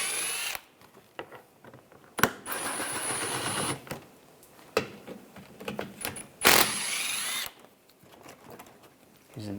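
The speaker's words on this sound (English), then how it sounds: "I'm using a 10mm socket. Take these bolts out." A power tool or ratchet with a 10mm socket backs bolts out while a coolant reservoir is removed from a 2013-2016 Dodge Dart 2.4L four-cylinder. It comes as several short, loud whirring bursts with quieter pauses of handling between them.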